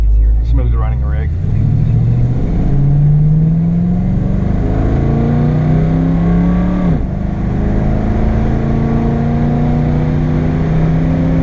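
A 1962 car with a smooth-running engine of roughly 230 horsepower accelerating while driving, loud and close, with engine pitch climbing through several gear changes under continuous rumble.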